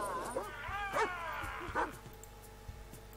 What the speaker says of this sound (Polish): Okej, wypuściliśmy psa.